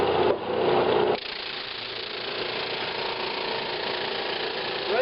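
Flatmaster drum sander working a wood board at about ten thousandths per pass: a brief louder grinding burst at the start, then a steady mid-pitched motor whir with no talking.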